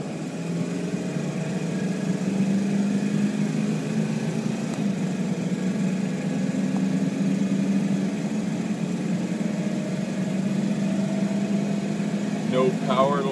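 A Ford 7.3 Powerstroke diesel pickup with a power-loss fault runs at a loud, steady, rough engine drone during hard acceleration, with someone talking over it.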